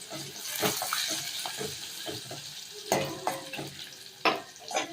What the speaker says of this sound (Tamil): எல்லாத்தையும் நல்லா வதக்கணும்.